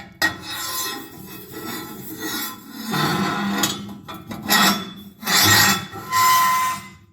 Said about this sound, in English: I'll slide that tubing back in there